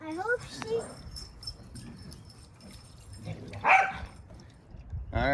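Two dogs play rough in a backyard, letting out short yips and a few sharp barks at moderate distance. People talk over the top of it.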